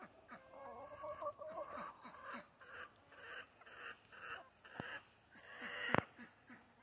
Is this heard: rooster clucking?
yes